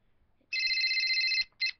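A telephone rings in one long electronic trill followed by the start of a second short burst, fairly loud and close, with no talk over it.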